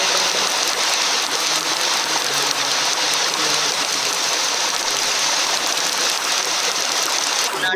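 Heavy rain pouring steadily and continuously, a dense even hiss of water close by with no breaks and no voices.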